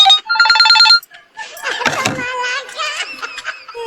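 A cellphone rings with a repeating electronic trill at the start, then a woman chatters and giggles over it; the ringing is loud and close.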